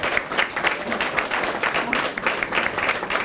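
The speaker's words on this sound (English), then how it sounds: "A big round of applause for our first place winner, Chuck McInnes" Steady, dense audience applause rings out for the first-place winner of a community garden contest in Chetwynd, a full, even wash of many hands clapping close by throughout.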